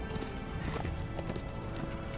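Horse hooves clip-clop at a steady trotting pace in the Darksiders 2 video game, repeating evenly for about two seconds within a dense bed of game sound and with no one talking.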